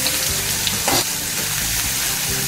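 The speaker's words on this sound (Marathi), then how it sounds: "मोहरी आणि हिंग घालून झालं की आपलं वाटण आपण त्याच्यामध्ये परतून घ्यायचं." A masala paste sautéed in hot oil with mustard seeds and asafoetida in a kadai gives off a loud, dense sizzle up close, with a brief swell of bubbling spatter partway through.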